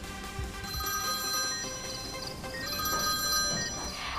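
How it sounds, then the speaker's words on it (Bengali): A telephone rings steadily throughout, its repeating bell tones fairly faint and alone without any talk, set within a dramatized audio story. "একদিন সন্ধ্যের দিকে ম্যাথিউর ফোন আসে।"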